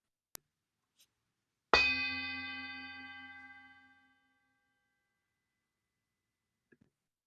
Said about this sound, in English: let me be quiet, ring the gong here, and then we'll sit for 5 minutes